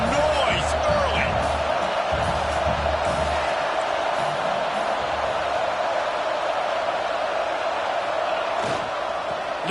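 A football stadium crowd at an Arizona State game roars in a steady, dense wash of noise, with scattered whoops and sharp accents rising out of it and a low rumble underneath.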